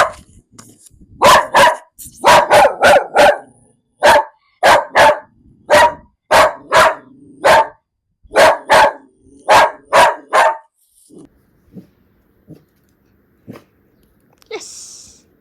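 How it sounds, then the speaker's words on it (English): A fearful, reactive rescue dog barks in a rapid series of about fifteen loud, close sharp barks in quick clusters, then falls quiet apart from a few faint thuds and a soft snort at the end. "I know, and the barking is back."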